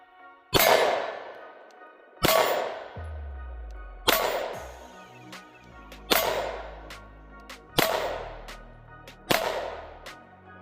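Six sharp, loud pistol shots from a Springfield XD Mod 3 ring against a red steel target about 7 yards away, each crack followed by a bright metallic clang. The impacts come at roughly even intervals of one to two seconds.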